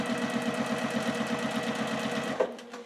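A domestic sewing machine running straight stitches for free motion quilting, a steady close rapid needle pulse that stops abruptly near the end with a small click.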